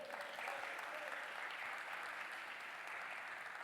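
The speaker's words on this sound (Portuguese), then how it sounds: "Você pode aplaudir o Senhor?" A church congregation applauds during a Sunday worship service, a steady, even wash of many hands clapping throughout, moderately distant and sustained without breaks.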